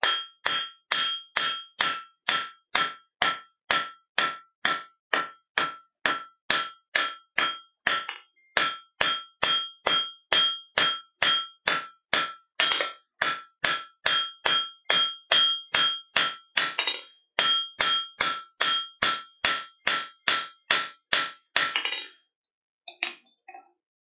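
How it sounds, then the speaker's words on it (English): A rounding hammer strikes hot metal at a forge over and over in a steady, quick rhythm, each blow a bright ringing clang, stopping near the end after a few scattered hits. "I'm going to switch over and use the rounding hammer."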